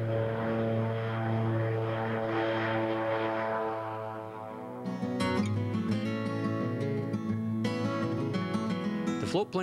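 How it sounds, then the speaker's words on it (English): A steady propeller-engine drone of a floatplane runs throughout, with harmonic hum shifting and rising in pitch partway through as the engine revs up. "the airplane of choice is the float plane"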